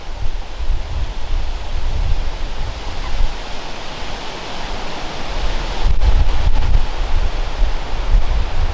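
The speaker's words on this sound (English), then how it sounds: "Hard to tell in this wind." Strong wind buffets the microphone beside the River Vire in France, a loud, continuous rushing roar with gusty low rumbles that swell toward the end, no voices present.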